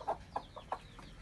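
Hens with newly hatched chicks clucking close by, four or five short, soft clucks spaced unevenly over about a second, with no other sound.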